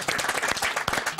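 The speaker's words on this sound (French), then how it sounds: "oui vous avez raison d'applaudir Monsieur Dallet" A studio audience on a French local TV talk show claps in a brief, dense burst of applause, close and fairly loud.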